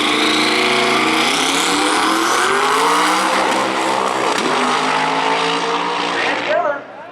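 Drag race cars roar down the strip at Maryland International Raceway, a loud sustained engine howl with rising and falling harmonics as they accelerate, fading out at the end.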